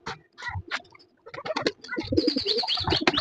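Domestic pigeons at a home pigeon farm coo in repeated throaty bursts, with a chick's thin high calls joining in, near and busy, starting sparse then growing into overlapping cooing.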